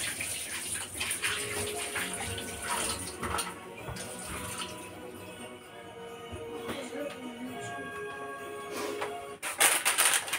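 Water runs steadily from a kitchen tap as hands are washed during preparation of a quick, easy sweet, with faint clinks and rustles over a continuous rushing stream that stops abruptly near the end.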